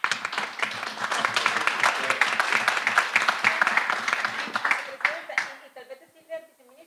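Audience applause at a presidential social council session, a dense spread of hand claps lasting several seconds before thinning out, with a voice and a few scattered sounds at the end.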